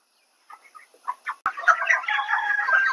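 Broiler chickens on a poultry farm, 29 days old, give a few sparse clucks before a sharp knock, then a dense, close chorus of clucking and peeping fills the rest, with no voices.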